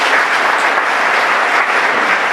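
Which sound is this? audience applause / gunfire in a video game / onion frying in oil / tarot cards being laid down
audience applause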